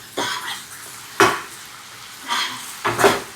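A spice tempering for onion-free spiced yogurt sizzles in a pan in four sharp bursts, each one flaring up and then fading back to a low hiss, with stirring and metal clinks up close.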